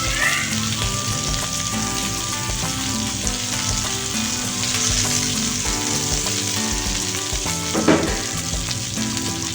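Chicken malai kebabs frying in a hot pan, browned on both sides, with a loud continuous sizzle and crackle plus occasional stirring and scraping noises, close up and with no voices.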